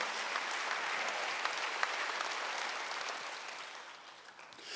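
A church congregation applauds at a Wednesday worship service, producing a dense, steady wash of clapping that fades slightly toward the end, with no voices over it.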